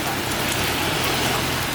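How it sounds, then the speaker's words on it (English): Steady heavy rain pours during a storm in Santa Monica, California, a dense even hiss of drops hitting surfaces, close and continuous with no pauses. "It's raining and then the sun comes out."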